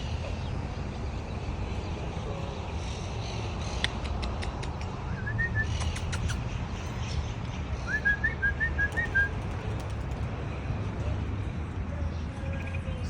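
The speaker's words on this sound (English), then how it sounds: "You can hear a lot of birds chirping." Birds in a park near the Mexicali border wall, with a palm tree nearby, give short bright chirps and whistled calls in brief bursts over a steady outdoor background.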